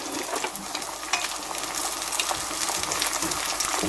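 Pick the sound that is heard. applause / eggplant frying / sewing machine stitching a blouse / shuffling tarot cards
eggplant frying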